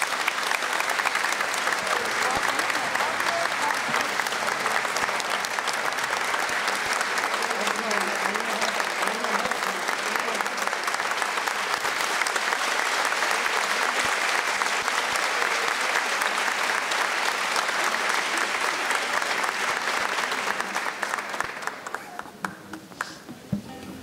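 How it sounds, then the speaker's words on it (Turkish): An audience at a Turkish university academic choir concert gives sustained, dense applause to welcome the conductor onstage, then the clapping tapers off and thins out near the end. "alkışlarınızla sahneye davet ediyorum"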